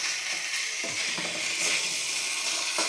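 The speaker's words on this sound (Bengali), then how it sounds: "এবার একটু ভাজা ভাজা হোক, একটু ভালো করে ভাজতে হবে" Onion, garlic and capsicum fry in a pan for a vegetarian pasta, with a continuous close sizzle and occasional stirring scrapes.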